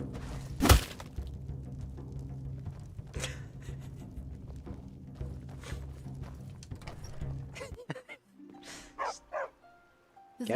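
A dog barking in the Skyrim video game, a sharp bark near the start followed by scattered thuds and clatters over a low game ambience, then a few further barky bursts near the end.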